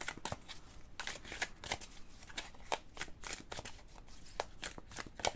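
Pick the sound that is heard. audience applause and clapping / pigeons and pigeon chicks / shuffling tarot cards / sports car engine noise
shuffling tarot cards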